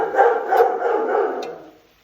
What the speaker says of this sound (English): The dog got a little excited.